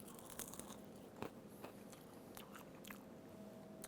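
Crunchy lentil and jalapeno sambusa pastry bitten into, giving a sharp crackling crunch followed by several brittle chewing crackles, close up with no talking.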